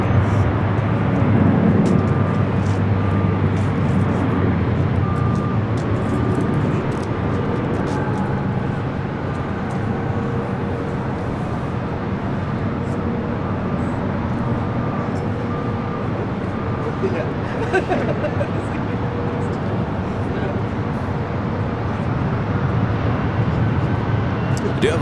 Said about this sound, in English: We do have a Hawker 900 XP heading to Pontiac, Michigan. Taking off now, 6 right.